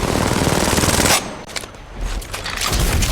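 Loud automatic gunfire in the Apex Legends battle royale shooter, a fast continuous burst that cuts off abruptly, followed by quieter scattered shots and noise.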